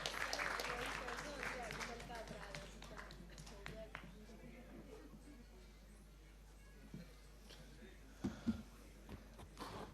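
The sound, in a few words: audience applause at conference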